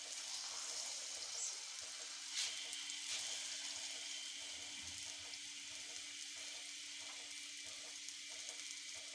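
Triangle paratha frying in a pan over a medium flame, a steady soft sizzle running throughout with a few faint clicks and scrapes, quiet and even with no voices.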